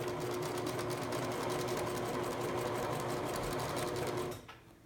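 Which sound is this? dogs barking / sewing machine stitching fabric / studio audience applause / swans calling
sewing machine stitching fabric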